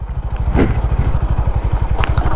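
Honda Highness CB 350 motorcycle ridden off-road, its engine thumping in a steady, rapid low pulse close by, with a brief scrape or clatter partway through.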